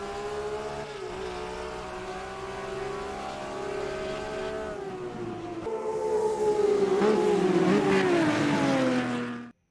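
A race car engine in Automobilista 2 drives a sustained harmonic drone, building in pitch and loudness as the car accelerates, then easing to a falling, fading tone near the end, with no talking.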